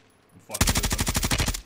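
Rapid automatic gunfire from the video game Warzone: a short, loud burst of about a dozen evenly spaced shots that starts abruptly after a brief quiet moment.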